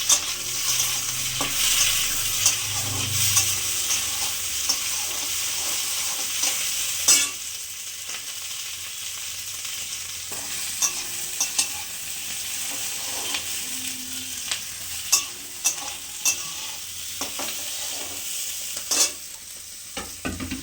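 Capsicum and onion fry and sizzle steadily in a pan, a continuous bright crackle broken by the scrape and clatter of stirring, with no talking.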